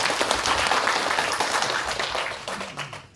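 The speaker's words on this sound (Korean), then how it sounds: "큰 박수." Applause from a seminar audience for a speaker at a multicultural public forum, dense clapping that holds steady and then tapers off near the end.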